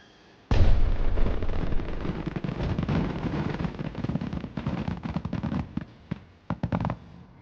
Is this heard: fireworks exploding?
yes